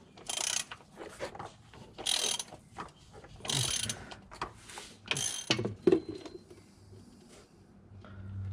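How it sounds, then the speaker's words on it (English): Ratchet wrench loosening transmission bolts on a BMW E46 M3 with SMG gearbox, bursts of quick clicking pawl strokes repeated several times, close and fairly quiet, with no talking. "I'm gonna start removing the transmission bolts."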